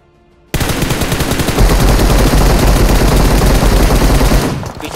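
Loud, sustained automatic gunfire erupts after a brief quiet moment in the BGMI battle royale game, a dense rapid stream of shots from behind that continues for several seconds before tapering off.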